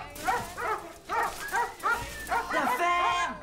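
Several dogs bark in quick, repeated yaps and yips, close and fairly loud, bursting in an irregular rhythm throughout with some whimpering mixed in.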